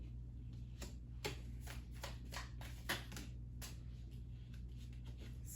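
Tarot cards being shuffled by hand at close range, with rapid crisp riffles and slaps in uneven bursts over a quiet background hum.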